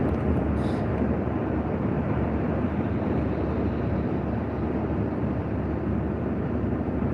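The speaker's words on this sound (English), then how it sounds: "It's a little windy." Steady wind blowing outdoors in California, loud and constant, buffeting the microphone with a continuous low rumble that never lets up and no pauses or distinct gusts standing out.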